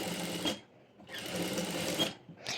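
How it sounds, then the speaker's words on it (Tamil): A sewing machine stitching a sleeve runs in two steady whirring bursts with a short pause between them, close and fairly quiet, and a third burst starts at the very end. "நான் இங்கே ஸ்டிச் போடுறேன்."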